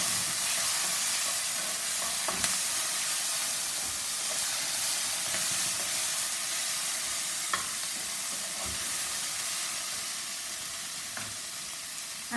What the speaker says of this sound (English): Now add the tomato pieces. Let the tomatoes cook well.